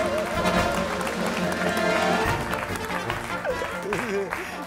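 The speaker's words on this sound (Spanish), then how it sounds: "¡Un aplauso arriba! ¡El circo!" Audience applause for a circus act, a dense steady wash of clapping running throughout with a crowd voice calling out over it and brief talk near the end.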